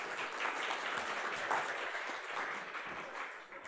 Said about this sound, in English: Can we applaud here, Naveed, for us?